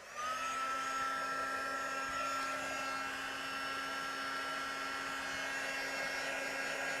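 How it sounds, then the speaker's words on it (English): A heat tool blows steadily for about seven seconds to set stamped embossing powder on a festive foliage background, a constant loud whirring hiss with a fixed hum and no talking. "And now let's bring in my heat tool and we'll set that."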